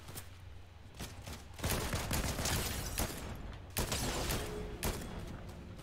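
Pistol fire in the Fortnite video game during a Winterfest match, with repeated sharp cracks in quick clusters over a busy, noisy battle backdrop, fairly close and loud.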